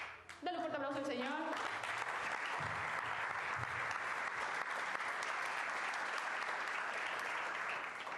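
A church congregation bursts into sustained applause after a brief spoken line, the clapping dense and steady for several seconds, fairly distant and even before fading slightly at the end.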